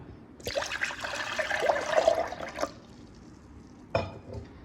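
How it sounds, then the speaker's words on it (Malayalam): Water is poured into freshly made grape lime juice in a close, steady stream lasting about two seconds, followed by a short splash a moment later. "ഇനി ഇതിലേക്ക് നമുക്ക് വെള്ളം ചേർത്ത് കൊടുക്കാം"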